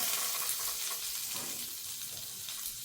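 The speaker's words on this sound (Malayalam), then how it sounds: "ഇതേപോലെ ഒരു പാത്രം വെച്ചിട്ടുണ്ട്, ബട്ടർ ഇട്ട് വെക്കാം." Butter melts and sizzles in a pan set up for toasting bread, a soft continuous frying hiss heard up close with gentle fluctuations and no speech.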